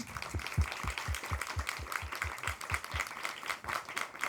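A congress audience gives a quiet, distant round of applause at a closing lecture, with steady rhythmic claps that carry on evenly throughout.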